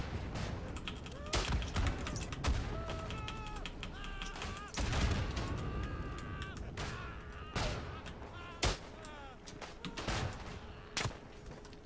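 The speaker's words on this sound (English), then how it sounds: "Where am I being sniped from?" Sharp, loud rifle shots crack out every second or two in the WWI shooter Isonzo, sniper fire on the Italian Front, mixed with distant battlefield gunfire and someone talking between the shots.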